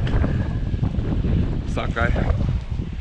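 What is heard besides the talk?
wind blowing outdoors by a wall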